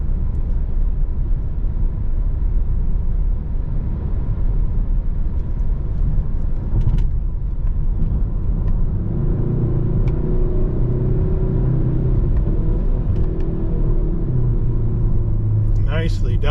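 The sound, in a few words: 2023 Kia K5 GT car driving downhill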